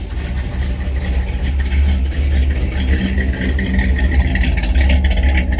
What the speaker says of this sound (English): It's obviously a 283, but boy, it does sound good, man.